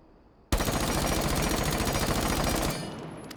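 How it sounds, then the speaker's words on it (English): Rapid automatic gunfire from a weapon fitted with a muzzle brake in Rainbow Six Siege, a loud, dense sustained burst of about two seconds that begins abruptly after brief quiet and then fades into a ringing tail. "I'm gonna try muzzle out real quick because some people have said muzzle is the way to go"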